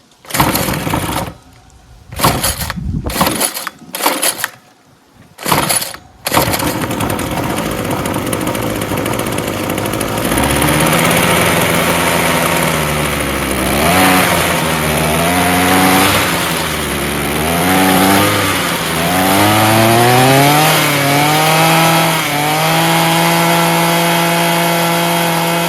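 A Ryobi weed trimmer's small two-stroke engine sputters through a few stuttering starts, then runs steadily on half choke, its pitch wavering up and down as the revs surge and sag, loud and close with no talking.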